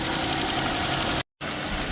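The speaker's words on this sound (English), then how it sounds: "The engine is running beautifully." A 2017 Dodge Charger 3.6 engine idles steadily after an engine replacement, a close, even rumble broken by a short cut of silence before it resumes.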